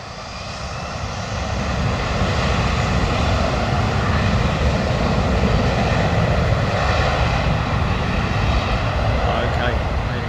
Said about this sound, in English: that sounded like a Toga departure. Those engines were burbling